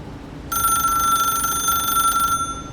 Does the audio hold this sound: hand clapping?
no